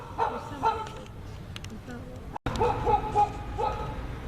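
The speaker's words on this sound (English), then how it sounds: "there's this mystery dog" A stray dog barks in short, loud bursts outdoors near a house, several sharp barks with whimpering yips between them, while people talk over and around it.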